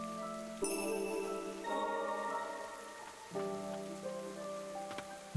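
Rain falls in the Ender Lilies video game, a steady soft patter behind layered tonal game music that swells and shifts, with no voices.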